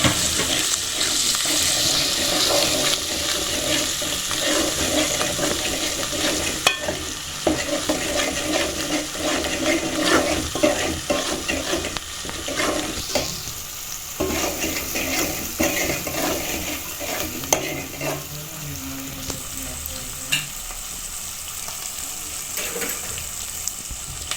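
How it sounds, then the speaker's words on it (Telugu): Onion, fenugreek, cumin and coriander paste frying in oil for Telangana fish pulusu gives a continuous sizzle and hiss, with occasional clinks and stirring scrapes in the pan. "ఆనియన్, మెంతులు, జీలకర్ర, ధనియాల పేస్ట్ వేసి నూనెలో వేసి వేయించుకోవాలి"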